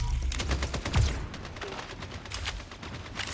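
Dense, overlapping gunshots crackle in quick succession, a busy exchange of fire at moderate volume with no voices, in the video game FragPunk.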